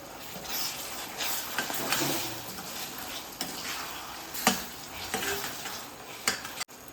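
Karvand pickle sizzles in a pan with a continuous hiss as it is stirred, with scattered scrapes and clinks of a spoon against the metal and a sharp knock near the end.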